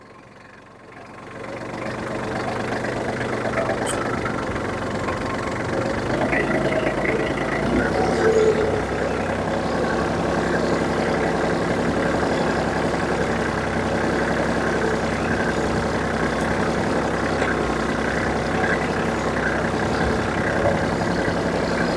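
A tractor engine runs steadily as it makes its first passes while building swales, the wheels firming the soil. The drone is loud and continuous, close by, with no voices over it.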